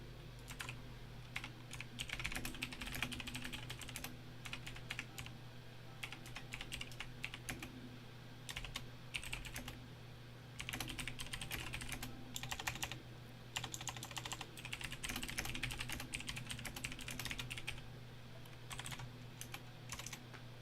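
Steady typing on a computer keyboard, rapid clustered key clicks in bursts with brief pauses, continuous and close for about twenty seconds over a low background hum, no talking.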